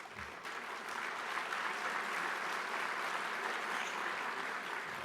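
Audience applause at an art auction award ceremony, a dense, steady clapping from a large crowd that swells in the first second and holds at a fairly even level.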